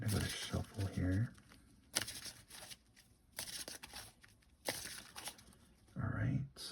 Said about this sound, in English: Gonna go to shuffle here.